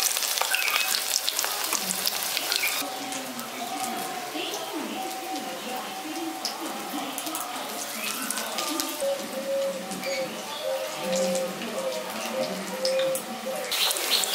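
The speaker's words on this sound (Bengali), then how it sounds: "এবার এগুলো উল্টে পাল্টে আমি লালচে করে ভেজে নিচ্ছি" Drumstick flower fritters fry in oil over low gas, producing a continuous sizzle with occasional scraping as they are turned.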